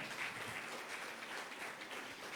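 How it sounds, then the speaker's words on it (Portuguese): A church congregation applauding during a Sunday evening service, a steady wash of many hands clapping that sounds fairly distant and soft throughout. "aplauda ao Senhor"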